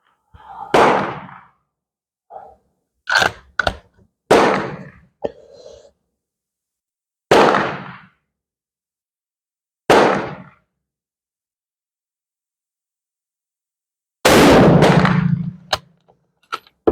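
Rifle shots firing Portuguese Vergueiro test loads over a chronograph at a range, about six sharp reports spaced several seconds apart, close and loud, with small handling clicks between them.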